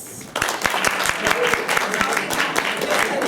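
Applause from an improv comedy audience voting on a scene title starts abruptly after a quieter moment and builds into steady, close clapping with distinct sharp claps, while a voice talks underneath.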